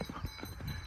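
Horse hooves clip-clop at a steady walking pace on a rocky mountain trail on the Annapurna Base Camp trek between Ghandruk and Chhomrong, several close, distinct hoofbeats within a second over a windy outdoor background.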